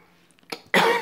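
A single short, harsh cough up close, preceded by a faint throat sound.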